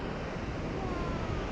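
Dettifoss waterfall in North Iceland roars as a broad, steady wash of rushing water, loud and unbroken, blended with gusty wind buffeting the microphone.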